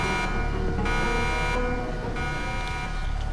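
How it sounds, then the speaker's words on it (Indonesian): An alarm sounds inside a facility in the film The Defect: a harsh, buzzing electronic tone that pulses on and off in repeated bursts, loud and continuous, with no speech. "tiba-tiba alarm yang ada di sana langsung berbunyi."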